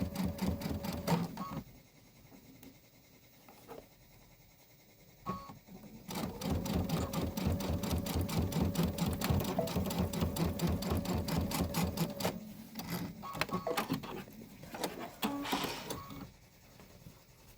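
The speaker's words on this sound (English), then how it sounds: "So I might start in sewing partway down." Sewing machine stitching thick quilted fabric for a home-décor tile project, running in two long steady bursts with a rapid mechanical needle rhythm, close and fairly loud, with short pauses between runs.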